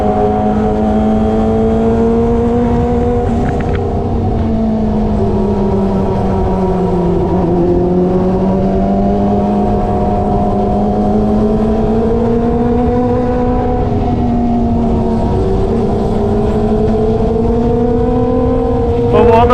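Kawasaki ZX25R motorcycle fitted with an SC Project exhaust, a loud sustained high-revving engine wail rising and falling through the gears on a village road, close and continuous for the whole stretch.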